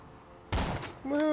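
A burst of gunfire in Borderlands 2 rings out abruptly as one loud blast with a ringing tail, inside a game soundscape with a tonal effect rising afterward; no voices accompany it.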